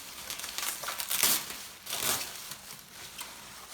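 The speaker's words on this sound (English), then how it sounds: "Okay, so here's the final bubble wrap." Bubble wrap is slowly unwrapped from a delicate sculpture, crinkling and crackling close by in uneven bursts with short pauses between.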